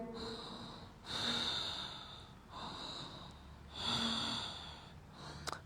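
Deep, slow yoga breaths taken while holding a heart-opening pose in a Forrest Yoga class, two long audible inhale-exhale cycles with a soft rhythmic rush of air, close and quiet in an otherwise still room.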